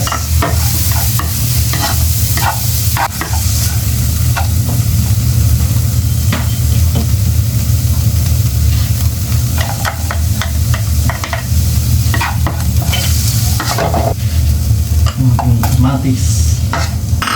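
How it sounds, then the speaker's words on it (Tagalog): Garlic and onion sauté in a pan, with a loud continuous sizzle and repeated close scraping and stirring strokes throughout. A low steady hum runs underneath. "Ito natin pinahalo at may ginisa."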